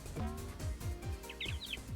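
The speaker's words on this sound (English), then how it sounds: "if you hit the bumpers, it sounds like you're hitting the birds?" Short, bright bird chirps ring out when bumpers are struck in the Sonic 3D Blast video game, a few quick twittering notes over busy game music with thumping low beats.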